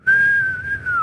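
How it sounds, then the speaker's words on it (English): A single clear, loud whistled tone held for about a second, a steady pitch that sags slightly toward the end, close and alone with no talking over it. "it's a whistle."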